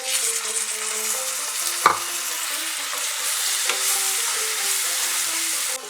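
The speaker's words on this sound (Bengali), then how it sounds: "তো মিডিয়াম টু লো ফ্লেমে একটু ভালো করে কষে নেব।" Ground spices (turmeric, coriander and Kashmiri chilli powder) with a splash of water sizzle steadily in a pan over medium-low flame while being stirred, with a sharp utensil knock near the two-second mark; no talking.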